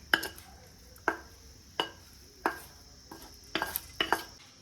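Spoon clinks against a bowl or pot as tempering is stirred into buttermilk rice, a series of sharp, close metallic taps spaced about a second apart, quickening near the end, with no talk.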